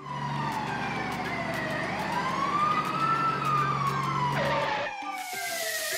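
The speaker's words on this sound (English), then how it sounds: "It's a fire engine." A toy fire engine's electronic siren wails in rising and falling sweeps, loud and steady close by, then cuts into a brighter tone near the end.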